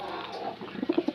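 Pigeons in a breeder cage give a short run of soft, low cooing notes, a few rounded pulses close by in a quiet setting.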